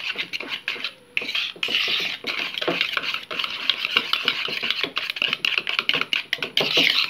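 Batter being remixed after sugar is added makes a busy, continuous scraping and clattering of a utensil against a bowl, close and fairly loud, with brief pauses.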